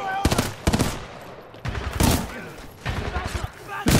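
Hemlock burst-fire rifle in the shooter game Titanfall 2 firing several rapid, loud bursts of gunfire in succession, close and punchy, with short gaps between volleys.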